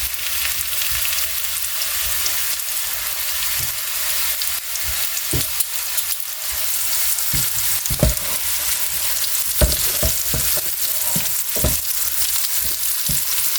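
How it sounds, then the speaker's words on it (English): Migas ingredients fry steadily in hot oil in a home kitchen pan, a dense continuous sizzle with scattered pops and crackles throughout, close and fairly loud, with no talking. "So while these are frying up"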